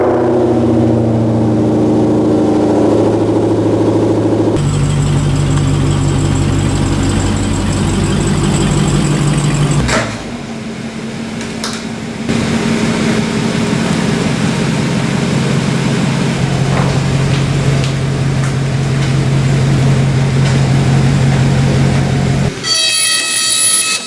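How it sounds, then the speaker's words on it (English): A 500 hp Hellcat-engined Magnum warms up at idle in a garage, a loud steady rumble that shifts in pitch partway through and carries on alone to the end, with no talking. "So let's warm the Hellcat up"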